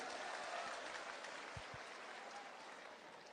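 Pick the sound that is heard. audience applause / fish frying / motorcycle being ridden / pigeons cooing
audience applause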